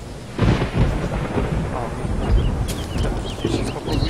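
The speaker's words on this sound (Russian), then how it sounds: "Что за звук будет? Гром." A low, rolling rumble of thunder fills the clip, steady and fairly loud, with a few brief higher chirps scattered over it near the end.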